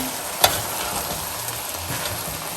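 Meat and peppers stirred in a sizzling pan for Rasta pasta sauce, a steady close frying hiss with one sharp scrape of the spoon and soft low shuffles as the mixture is turned, no voices.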